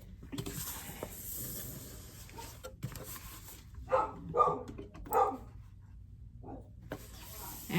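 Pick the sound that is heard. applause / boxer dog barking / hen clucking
boxer dog barking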